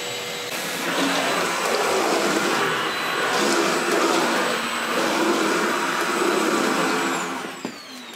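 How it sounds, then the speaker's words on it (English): A Milwaukee M18 Fuel 3-in-1 backpack vacuum runs continuously nearby with a loud, steady whirring whine and airy suction roar, holding level for several seconds before tapering slightly at the end. "Another question is, hey Vince, does this vacuum suck?"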